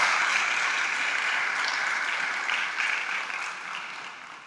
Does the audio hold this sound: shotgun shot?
no